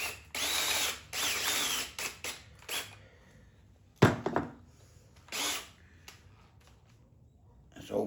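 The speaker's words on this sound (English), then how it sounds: "This old Porter cable drill that I have" An old Porter Cable drill runs in short, close whirring bursts with pauses between, plus a sharp knock and some faint clicks, fairly quiet overall.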